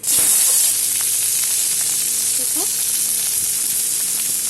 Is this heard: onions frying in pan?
yes